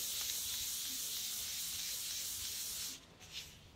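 Wood sanded by hand with 600-grit sandpaper gives a soft, steady rubbing hiss, close but quiet, running continuously before stopping near the end with a brief faint scuff.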